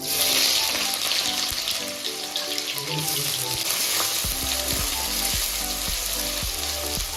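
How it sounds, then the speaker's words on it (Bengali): Chopped onion and whole dried red chilies hit hot oil in a kadai for a Kolkata-style aloo dum, giving a loud, continuous close sizzle with a few clinks and scrapes, no talking. "কড়াইতে তেল দিয়ে দিচ্ছি এটা গরম হয়ে গেছে দিয়ে দিচ্ছি শুকনো লঙ্কা গোটা দিয়ে দিয়ে দিচ্ছি পেঁয়াজ কুচি"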